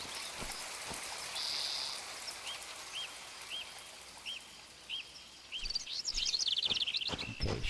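Rain patters in the game Planet Explorers, a soft, steady hiss with birds chirping repeatedly in the background and louder insect-like trilling near the end.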